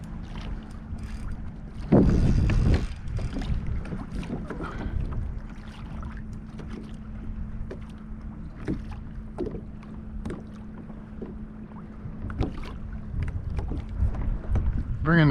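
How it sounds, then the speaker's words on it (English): A kayak being maneuvered on open water while fishing off Grassy Key, with close paddle splashes and hull knocks over steady wind noise into the microphone, plus a sharp burst of splashing early on. "Bringing the kayak around a little bit."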